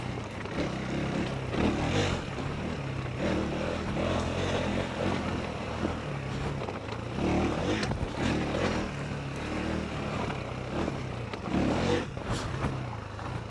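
A KTM 390 Enduro single-cylinder motorcycle ridden along damp, leaf-covered dirt trails, its engine droning steadily and rising and falling with throttle blips, mixed with wind rush and knocks from rough square-edged ground.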